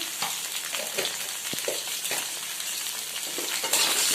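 Pointed gourd coated with turmeric and salt frying in mustard oil, a loud continuous sizzle with occasional stirring knocks, growing hissier toward the end, no talk.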